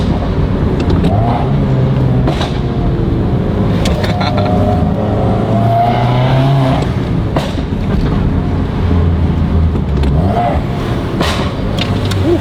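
A turbocharged flat-four Subaru WRX engine drones steadily and loudly while driving, its pitch rising and falling with throttle, and a voice talks faintly underneath.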